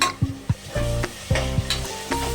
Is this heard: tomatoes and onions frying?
yes